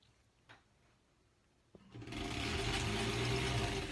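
A sewing machine stitching a quilt block starts up after a couple of soft clicks and runs steadily with a dense mechanical whir, close and fairly loud, with no talking.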